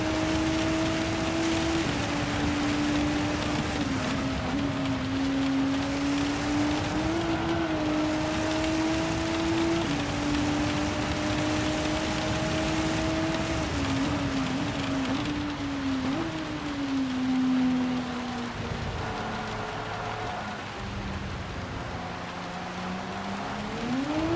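Continuous roar of heavy rain, dense and unbroken, under a steady droning engine-like hum.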